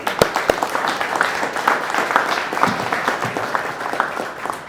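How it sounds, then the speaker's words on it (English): A crowd at an outdoor press conference for a new city pool claps, opening with a few sharp, close individual claps before swelling into dense, steady applause that carries on to the end. "give yourselves a huge round of applause"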